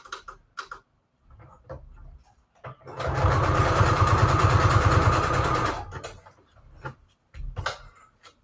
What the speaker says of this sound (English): I'm going to do a zigzag stitch.